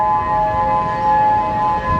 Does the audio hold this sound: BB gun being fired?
no